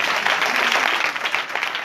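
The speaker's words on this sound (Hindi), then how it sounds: "जो हमारी जिंदगियों में बड़े बड़े काम करता है, जोरदार तालियां" Sustained, dense applause from a crowd gathered at an outdoor street revival meeting, steady and fairly loud throughout with no pauses.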